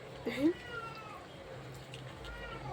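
A domestic cat gives a short, clear meow near the start, with quiet room noise afterward.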